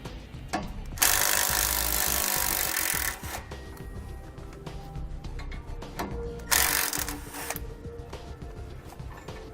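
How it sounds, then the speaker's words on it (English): A 13mm socket works the nuts off a steering stabilizer bracket while a Roadmaster Reflex RV steering stabilizer is installed, giving two stretches of harsh, scraping ratchet-like grinding with quieter metallic handling between. "Now I'm going to be using a 13mm socket to remove these nuts"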